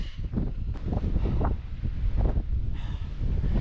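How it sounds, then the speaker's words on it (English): Strong gusting wind buffets the microphone on an exposed Lake District fell summit near Glaramara, roaring and rumbling loudly throughout with surges and small rustles. "That wind is absolutely brutal. It's just picked up."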